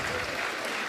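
A dense burst of audience clapping fills the moment, steady and fairly loud with no pauses, with voices faintly mixed in.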